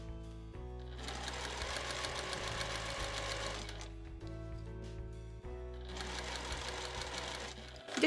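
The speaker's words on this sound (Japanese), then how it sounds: "この返し口のところはこの開き口のところ切れやすいので、しっかり返し縫いを入れてください。" A sewing machine backstitches the fabric of a handmade pet hammock, stitching in two loud rapid bursts with a quieter slow whirring pause between them, close up.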